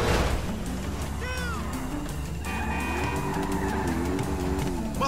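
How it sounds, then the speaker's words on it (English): Loud engine roar with tire squeal and skidding during a chase in the video game GTA V, a big motorcycle racing along under a sustained growl with rising and falling pitch. "That's a monster fucking bike you riding"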